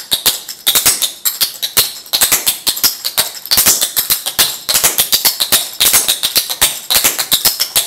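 Old-time step dancing basic step with a shuffle added, hard shoes tapping out a rapid, steady stream of crisp taps and shuffles, loud and close, with no talk over it.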